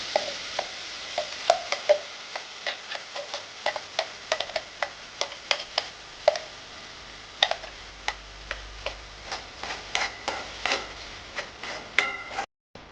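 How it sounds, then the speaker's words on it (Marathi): Onion being fried and stirred in a pan, a steady sizzle under frequent sharp ticks and scrapes from a utensil against the pan, repeated in a loose rhythm throughout with no talk. "बरो भाजपाक जाय तो कांदो."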